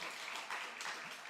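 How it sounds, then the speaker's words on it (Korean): Short burst of applause from a church congregation, dense steady clapping heard from a little distance. "다시 한번 박수 주시기 바랍니다"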